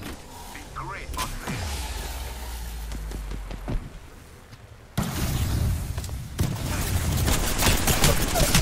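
Gunfire in Apex Legends rattles in dense bursts, loud and close, with a mechanical whir early on and a heavier barrage in the second half. Voices may be faintly audible beneath it.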